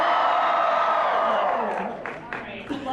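A fan-event audience cheers and whoops loudly, a dense sustained roar of many voices that gradually tapers off, with a few scattered shouts near the end.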